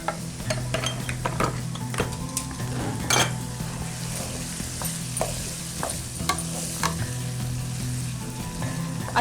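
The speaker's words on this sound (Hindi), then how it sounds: "अच्छा जी, ये इस तरह से जब आप फ्राई कर लें" Prawns frying in a pan for jhinga biryani give a steady, close sizzle, broken by the clatter of a utensil stirring against the pan, with no talking.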